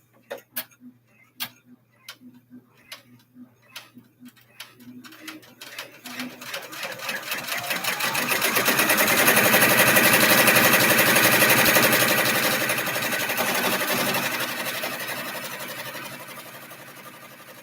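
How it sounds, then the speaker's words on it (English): Sewing machine stitching around a bag, starting with a few slow, separate ticking stitches that speed up into a fast, steady mechanical whir, loud and close, then easing slightly toward the end with no talking. "so now it's just gonna stitch around this 4 times"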